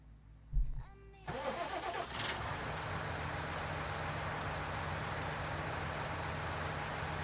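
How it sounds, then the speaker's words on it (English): A tractor engine in a farming simulation game cranks over, catches, then settles into a loud, steady diesel-like idle that carries on unbroken to the end. "Grab my tractor."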